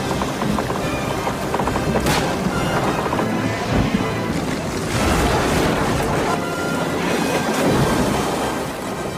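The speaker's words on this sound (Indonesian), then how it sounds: "Dan ya benar saja badai besar pun datang" A big storm with heavy wind, rain and crashing water surf from the film Robinson, a steady loud roar of churning waves and wind with no clear thunder crack, continuous throughout.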